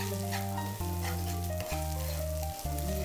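Chicken fries with softened onions in a pan for chatti pathiri, making a steady, close sizzle with no speech, while low tonal sounds run underneath.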